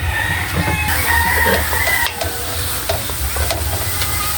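Garlic, onion and raw tomato sizzle steadily in a hot pan for a Filipino home-cooked dish, with spatula stirring and scraping over a loud, continuous frying hiss; a rooster crows faintly in the background.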